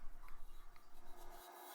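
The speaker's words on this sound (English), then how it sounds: "I'm working on parting the ring off from the body" A homemade pointed parting tool, ground from a Phillips screwdriver, rasps and scrapes against a spinning wooden goblet as it cuts a captive ring free from the stem. The scraping is steady and close, with no talk, and the low rumble drops away near the end.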